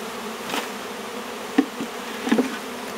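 A honey bee swarm buzzes steadily outdoors, a dense insect drone with a few individual bees passing close by, louder for brief moments.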